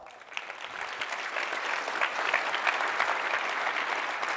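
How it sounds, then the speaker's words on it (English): A conference audience breaks into sustained applause for a speaker being introduced at a tech talk, a dense steady clatter of many hands that swells slightly and holds throughout. "if you please give him a round of applause"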